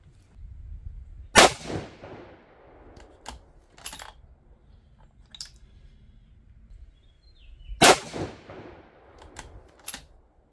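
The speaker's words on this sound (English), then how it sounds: "we're going to go ahead and just shoot 2 and move the tuner" 6.5 Creedmoor rifle fitted with a barrel tuner, fired outdoors: two loud, sharp shots several seconds apart, each with a brief echo, and faint handling clicks between them.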